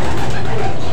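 Imported racing pigeons of Boxer and Wegen Colson bloodlines cooing close by in a loft, a soft, continuous low burbling for about a second with faint background noise.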